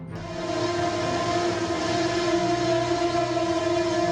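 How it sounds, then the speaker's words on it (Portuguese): A train bears down on a vehicle at a crossing, a loud sustained horn-like tone holding steady over rumbling rail noise throughout. "O trem veio com uma força impressionante, atingindo o veículo"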